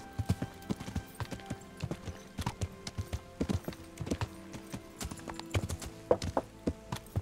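Horse hooves clip-clop steadily along a rough path in the medieval game Kingdom Come: Deliverance, a close, regular rhythm of sharp hoof strikes with no talk over them.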